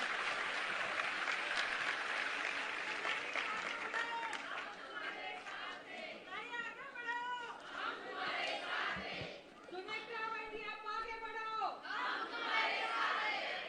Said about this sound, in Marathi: ताई, जरा जोरदार टाळ्या होऊन जाऊ देत मंडळी.